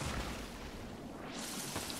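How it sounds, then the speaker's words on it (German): A waterfall inside a cave in the video game The Forest gives off a constant, dense roaring rush of falling water, loud and unbroken throughout. "Der Wasserfall lässt hier ein ziemliches Szenario an Akustik zu."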